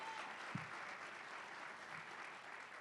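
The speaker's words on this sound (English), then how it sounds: "please give them a round of applause" A very faint, distant patter of audience applause for student event staff at an evening talk, a low steady texture of many hands with one soft knock early on.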